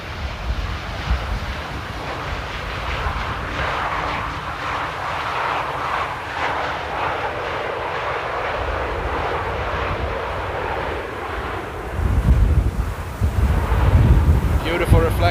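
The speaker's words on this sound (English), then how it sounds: "Oh, that was a rough nose gear touchdown." A jet airliner lands in strong wind at Amsterdam Airport with a rough nose gear touchdown, its engine roar steady and fairly near under heavy wind noise, then a louder rush of gusts and reverse thrust at the end.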